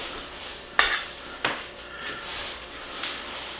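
A sticky candied mixture of sugar, butter and nuts is stirred in a pot, with a few sharp utensil knocks against the pan among soft scraping, close and intermittent.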